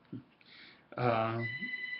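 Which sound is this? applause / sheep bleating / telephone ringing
telephone ringing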